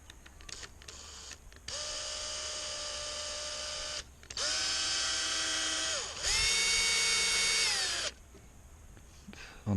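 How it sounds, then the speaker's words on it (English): A power drill whines in three sustained bursts while drilling a hole in a trommel, pitch shifting between runs as it bites into material, with brief pauses and clicks between. "what I do, I drill a hole on that"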